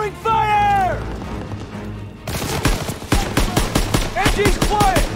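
Rapid machine gun bursts crackle in a WWII shooter set on Hill 493 in Germany's Hürtgen Forest, loud and close, with soldiers shouting over the fire and a rising whistle early on.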